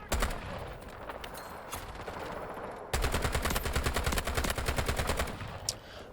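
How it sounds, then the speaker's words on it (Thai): Gunfire in the video game Delta Force, with a scattered run of shots giving way to a sustained rapid automatic burst of sharp, evenly spaced reports, close and loud. "เห็นปุ๊บแม่งยิงปั๊บเลย"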